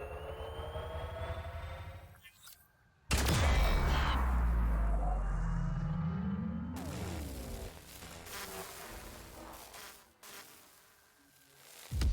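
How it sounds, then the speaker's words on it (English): Distant explosion in the video game Grounded: after a quiet stretch, a sudden loud deep boom bursts in, then a long rumbling decay fades over an ambient buzzing, insect-like background with no talking. "Did you hear something that sounded like a big far-off explosion?"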